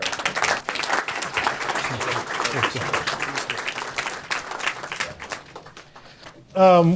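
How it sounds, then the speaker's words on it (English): An audience at a panel event on India's 2050 roadmap claps warmly, a dense sustained applause over several seconds that thins toward the end before a loud voice cuts in. "Warm applause for"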